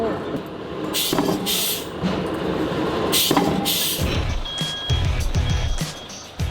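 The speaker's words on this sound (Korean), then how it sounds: "한창 바쁜 와중에 도착한 트럭 한 대." A truck pulls in at a busy spoon factory, its engine rumbling along with hissing air-brake bursts, then a series of reversing beeps sounds near the end over the factory background.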